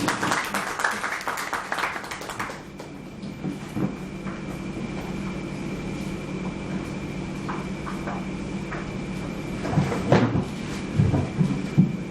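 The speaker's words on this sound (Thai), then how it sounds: "ขอเสียงปรบมือต้อนรับท่านวิทยากรท่านนี้นะคะ" An audience applauds to welcome a speaker at a Thai public-speaking event, the clapping loud and dense at the start and thinning into scattered claps after a few seconds, with a low steady hum underneath.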